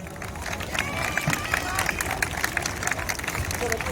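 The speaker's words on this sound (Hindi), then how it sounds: "जोरदार तालियां।" Audience at a Hindu community gathering in India applauding, a steady patter of many hands clapping with a murmur of voices underneath, moderately loud and continuous throughout.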